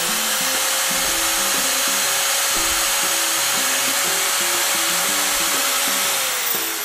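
A Japanese-made Makita 9533B 720W angle grinder runs unloaded with a steady high whine that holds for several seconds, loud and close, then begins to wind down at the end.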